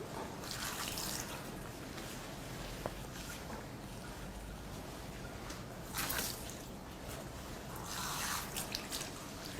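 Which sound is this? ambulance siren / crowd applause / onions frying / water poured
water poured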